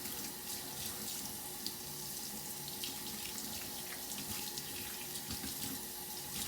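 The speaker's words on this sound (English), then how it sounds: "I'll rinse my hands, making sure that I do keep my hands and wrists below the elbow" Hands are rinsed under a running tap at a sink during a clinical hand-washing routine, a continuous soft splashing flow with small irregular spatters, fairly quiet and close, with no talk.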